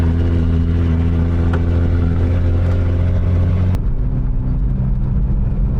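Datsun 280Z with an L28 straight-six and straight-pipe exhaust drives on the road, its loud, low, harmonic engine drone holding steady, then dropping in pitch and easing off partway through.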